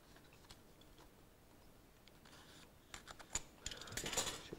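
Small plastic clicks and scraping taps from cutting open the G.Skill Trident Z RGB RAM packaging, quiet at first, then a denser cluster of crackles and ticks toward the end.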